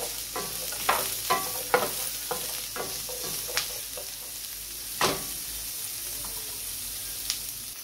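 Carrot stir-frying in a hot pan gives a continuous close sizzle broken by a series of sharp utensil scrapes and clacks, with no talking.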